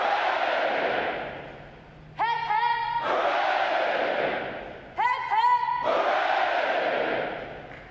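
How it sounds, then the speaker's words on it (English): Graduating Navy recruits at a U.S. Navy Recruit Training Command graduation give three cheers, massed shouted voices rising in loud bursts, separated by short pauses with brief echoing calls between them. "The adjutant will lead all graduating divisions in three cheers for this morning's award winners."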